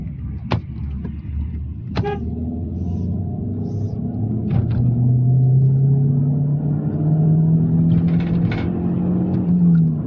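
A car with a recently cleaned EGR valve and throttle body accelerates in second gear up to 80, its engine note climbing steadily in a loud, rising drone after a few faint clicks and knocks at the start.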